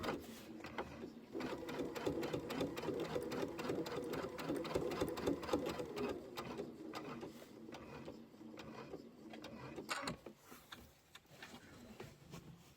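Sewing machine stitching in the ditch on a pillow, a fast steady needle clatter running for about ten seconds, then slowing and stopping.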